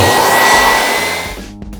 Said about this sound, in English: just grab a shop vac and suck it up